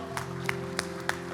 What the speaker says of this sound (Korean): 우리 나의 하나님께 감사의 박수를 한 번 더 올려드립니다.